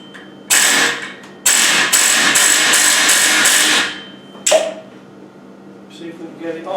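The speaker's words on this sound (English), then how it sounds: "We're going to hit it with an air chisel." An air chisel hammers at a very tight, seized part during repairs on a Ghana 110, in two loud sustained bursts, the second with a stuttering rhythm, followed by clanks and quieter workshop noise.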